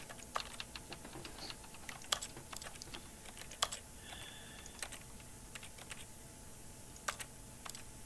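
Computer keyboard keys clatter in a long run of irregular taps, some sharper presses standing out, close and quiet against a faint hum, with no one speaking.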